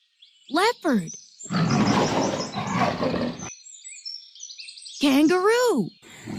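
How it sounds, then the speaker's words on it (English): A leopard's roar in a children's animal-sounds sequence: two short rasping calls, a long rough noisy burst, then a louder rising and falling call, close and fairly loud. "Leopard."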